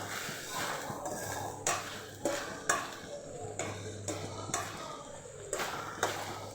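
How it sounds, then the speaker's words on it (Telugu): A spoon stirs dondakaya (ivy gourd) roti pachadi in a pan over a gas flame, giving repeated scraping strokes and sharp metallic taps roughly every second over a quiet background hiss. "అడుగంటకుండా మధ్య మధ్యలో ఇలా కలుపుకుంటూ ఉండాలండి"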